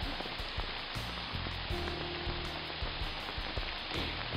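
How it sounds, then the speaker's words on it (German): Steady rain falls on a forest campsite in the Pfälzerwald, a dense close hiss of drops on tarp and leaves, with scattered heavier patters and a few low thumps of gear being handled. "Ja, packen wir die Sachen halt im Regen ein."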